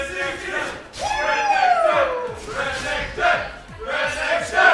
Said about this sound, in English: We have cheering for Renekton